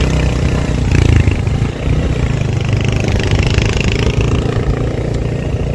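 Motorcycle engine climbing an uphill village road, a steady close mid-pitched drone with clattering mechanical texture and slight revving, mixed with wind rush and no talk.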